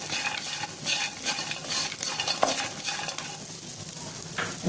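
Raisins, almonds and chopped coconut roasting in a pan, a steady broadband sizzle with recurring scraping stirs and an occasional sharper clink, fairly close and continuous with no talk.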